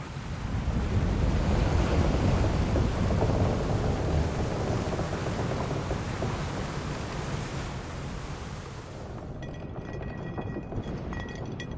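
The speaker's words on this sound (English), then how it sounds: "We're in for a proper storm," A storm at sea in a video game gives a loud, continuous roar of wind and surf with deep rumbling underneath, easing slightly toward the end, with no talking.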